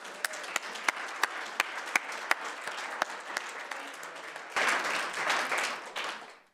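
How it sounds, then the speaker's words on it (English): Audience applause at a university faculty lecture, starting with a few sharp individual claps that build into steady, dense clapping and swell louder near the end before cutting off. "Yeah, let's clap."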